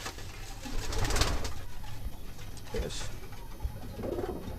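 Rampuri pigeons coo in a loft, soft repeated throaty calls at close range mixed with rustling and fluttering, while someone speaks briefly.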